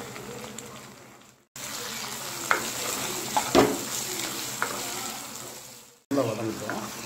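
Tomatoes and onions saute in a clay pot for a fish curry, giving a steady, close sizzle with occasional stirring scrapes. The sizzle drops out briefly twice.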